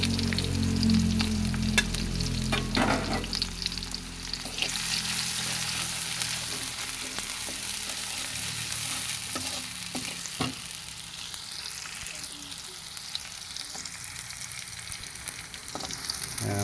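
Chopped onions frying in hot oil for a tilapia curry, stirred around the pan, a thick steady sizzle with scattered scrapes and clinks of the spoon, close and continuous, no voices.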